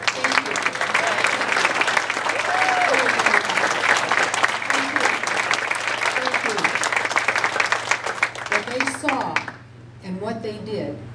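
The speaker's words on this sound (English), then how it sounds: "we're going to applaud you" Crowd at a political event applauds nurses and caregivers, sustained loud clapping with scattered cheers for about nine seconds, then fading as a voice speaks over a low room hum.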